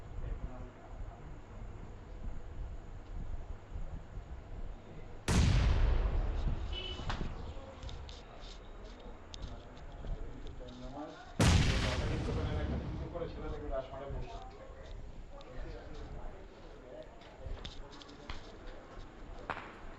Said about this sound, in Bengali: যথেষ্ট ভালো কভার ফায়ার কিন্তু আসছে একের পর এক